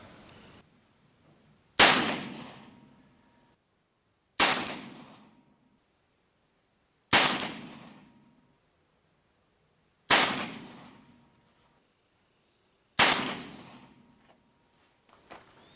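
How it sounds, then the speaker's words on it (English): Five sharp, loud shots from an Uberti Walker revolver fitted with a conversion cylinder, fired one at a time about every two to three seconds outdoors, each with a short fading echo. "It felt like a 22 going off."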